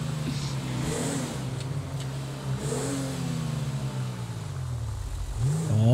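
A nearby car pulls off and accelerates, its engine note sweeping up through several rising revs, gear changes audible between pulls, growing louder at the end over steady road rumble.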